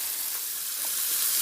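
Chorizo, chopped and crumbled like ground sausage, frying in a pan gives a steady, fairly loud sizzle with faint crackles and a hint of stirring, with no voices.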